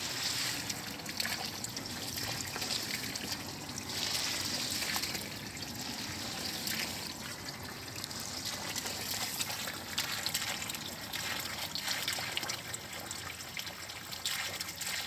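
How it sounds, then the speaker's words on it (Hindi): Irrigation water flowing through a field channel, a steady close trickling and gushing wash that runs continuously at moderate level, alone without talk. "पानी जा रहा है इस साइड पे"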